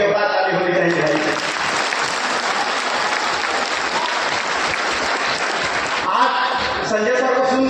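An audience at a birthday celebration event for Emperor Ashoka in Patna applauds loudly and steadily, sustained clapping filling the hall, with a voice faintly heard near the start and end.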